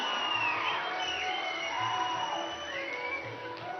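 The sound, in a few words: audience applauding the Padma Vibhushan awardees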